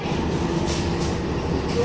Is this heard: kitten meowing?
no